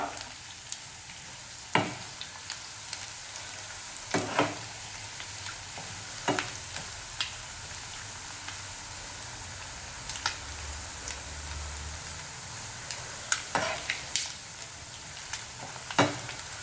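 Prawns frying in oil in a pan for prawn pickle, a steady low sizzle running throughout, with sharp clicks and taps of utensils scattered over it.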